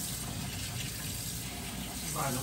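Tap water runs continuously into a sink as a child washes hands and plays in the stream, a steady close gushing splash with a slight change near the end.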